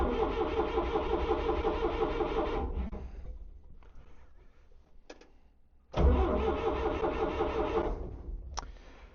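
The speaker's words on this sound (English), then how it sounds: "let's crank this thing up. See if it'll start any easier now." A motor grader engine with a hard-starting, flooding condition cranks and catches, runs roughly for about three seconds and dies. After a quiet pause it bursts back to life and runs loud and close before fading.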